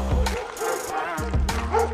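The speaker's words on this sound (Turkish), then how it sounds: "Her tarafta yine bir sürü köpek var." Several street dogs bark and yip in short, sharp bursts, close and loud, with brief whimpering tones between the barks.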